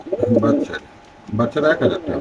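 Caged racer pigeons give soft, low cooing in short bursts close by, partly under someone talking.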